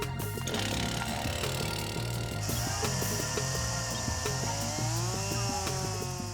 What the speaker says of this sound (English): To speed up the process, Naked Science calls in the chainsaws.